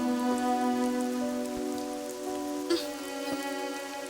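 Steady rain pours down outside a house, a continuous dense patter that holds evenly throughout, with a couple of brief knocks and thuds rising above the wash.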